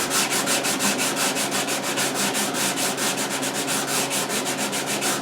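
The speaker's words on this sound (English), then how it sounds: "then I'll do the sanding part with the sander" A power sander rasps rhythmically against the wooden side of a guitar, with steady, evenly spaced rubbing strokes close up and no talking.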